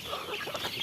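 A chicken clucks close by in a short burst of quick, throaty calls, fairly clear against faint background noise, with no talking.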